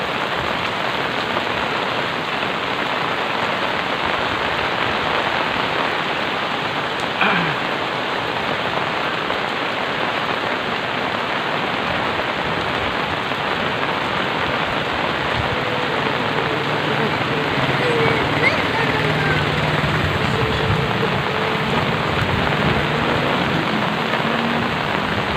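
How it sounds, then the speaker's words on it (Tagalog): Heavy rain falls steadily on a road during a school-morning drive along a highway, a dense continuous wash with occasional faint rumbles, while voices talk intermittently over it. "Ang lakas ng ulan"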